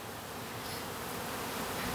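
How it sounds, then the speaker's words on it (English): Honeybees flying out of an opened nuc hive box, a steady, dense buzzing drone that holds at the same level throughout with no pauses, heard up close and alone with no talking. "You can see we have quite a bit of bee activity here. These guys are wanting to get out and fly"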